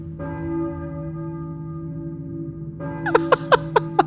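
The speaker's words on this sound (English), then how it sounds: "I hear a church bell, maybe. Who is ringing the bell?" Church bell ringing in the video game Silent Hill, a sustained resonant toll with a long ringing decay, followed by a quick series of brighter struck chimes, heard clearly with no talk.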